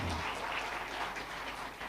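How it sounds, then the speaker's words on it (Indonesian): A crowd at an Indonesian PAN political gathering applauds party chairman Zulkifli Hasan, a dense, continuous burst of clapping that stays loud across the whole moment. "tepuk tangan untuk Papi Zulkifli Hasan."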